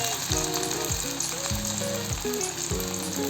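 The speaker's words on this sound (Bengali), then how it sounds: "গরম তেলের মধ্যে এখন আমি একে একে মাছগুলোকে বেসনের মিশ্রণের মধ্যে দিয়ে তারপর ছেড়ে দিচ্ছি।" Fish pieces coated in gram flour batter sizzle and crackle in hot oil, a continuous close frying hiss with bubbling bursts as pieces settle, no voices.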